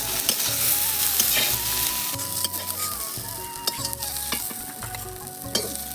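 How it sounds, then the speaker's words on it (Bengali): Spring onion stalks fry in a pan in a home kitchen, steady sizzling hiss with scraping stirring strokes and clinks of a spatula, close up and without talk. "বন্ধুরা, পেঁয়াজ কলিটা আমার ভাজা হয়ে গেছে"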